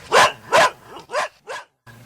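Police dogs bark in four sharp, close barks at a steady pace, a short pause, then a faint low rumble, as a radio drama sound effect.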